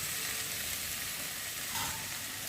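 Sliced eggplant goes into hot spiced oil in a pan and sets off a steady close sizzle that stays even throughout, with a faint clink partway.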